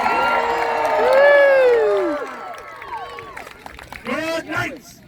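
A Renaissance fair joust crowd cheers and shouts for a knight, a swell of mixed voices rising then fading, with a second burst of yells near the end.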